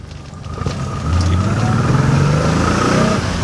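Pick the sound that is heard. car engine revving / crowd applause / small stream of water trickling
car engine revving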